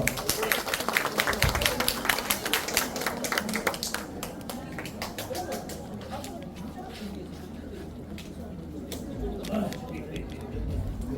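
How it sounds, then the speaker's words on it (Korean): A small audience at a community center claps loudly at first, then the clapping thins to scattered taps. Talk and bird coos are heard in the background. "모두 큰 박수를 부탁드리겠습니다"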